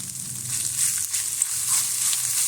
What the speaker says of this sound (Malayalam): എന്നിട്ട് നമുക്ക് നന്നായി ഒന്ന് മൂപ്പിച്ചെടുക്കും.